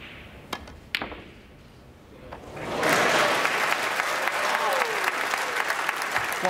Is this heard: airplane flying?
no